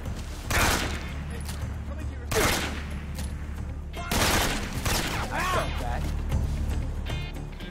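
Enemy gunfire in the stealth video game Metal Gear Solid 3, repeated sharp bursts of shots cracking close and loud over a steady low hum, with a voice speaking among the volleys.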